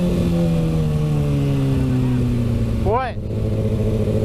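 A Kawasaki Z125 motorcycle's exhaust drones loudly and steadily, its pitch slowly falling before a quick rising sweep, with a rider's voice briefly over the engine.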